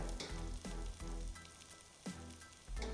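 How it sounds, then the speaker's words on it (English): Steady sizzling of a grain-free cauliflower fritter frying in avocado oil over medium-high heat, close up and fairly loud, with a few sharper crackles and pops breaking through the hiss. "And we're frying."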